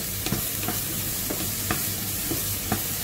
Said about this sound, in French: On fait suer un petit peu les champignons, il y a un peu d'eau de végétation qui va sortir.